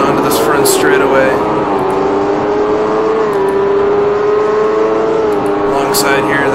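IndyCar race car engines in the video game IndyCar Racing II scream at high, steady revs, loud and close, with a commentator talking over the sustained whine.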